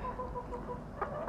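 Bantam chicken, a short-legged ornamental fowl, gives a couple of soft, brief clucks near the end over a steady low background hum.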